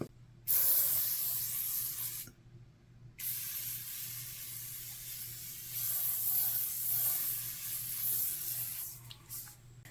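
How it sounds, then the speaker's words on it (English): Several quick hissing sprays from an Evian facial mist pump bottle, close and fairly loud, with a short pause between bursts and a low hum underneath. "I'm going to use the Evian Glow Facial Mist."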